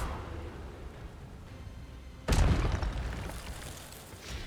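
An Incendio fire spell blast in Hogwarts Legacy: after a quiet stretch, a sudden loud whooshing burst with a heavy low boom that decays over about a second into rumbling noise.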